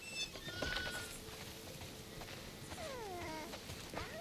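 Sheep bleat in the video game The Last of Us Part II, a few wavering calls rising and falling over a steady outdoor ambience, moderately loud with no talking.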